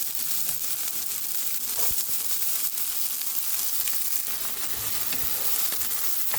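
Medium sliced onion fries in hot oil in a pan, giving a loud, steady crackling sizzle with scattered sharp pops and the occasional scrape of stirring, and no voices.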